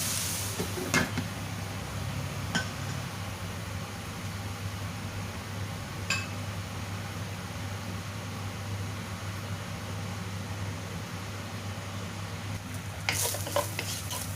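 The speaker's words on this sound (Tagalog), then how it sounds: "Lutuin natin ng mabuti ang ating pork." Minced pork cooks in a covered pan, a low, even sizzle running throughout with occasional sharp knocks and a louder clatter near the end, likely the lid or utensil.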